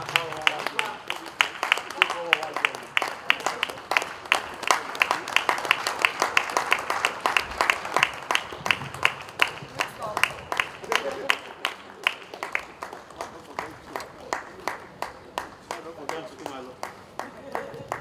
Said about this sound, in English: The ESCO of ABPSS should continue to clap.